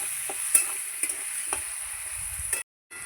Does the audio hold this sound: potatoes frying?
yes